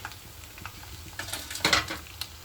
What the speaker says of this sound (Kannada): ನೋಡಿ ಇವಾಗ ಎಣ್ಣೆ ಕಾದಿದೆ ನಾನು ಮಿಕ್ಸ್ ಮಾಡಿರೋವಂಥ ಮೀನುಗಳನ್ನ ಇದರಲ್ಲಿ ಹಾಕ್ಕೊಳ್ತಾ ಇದ್ದೀನಿ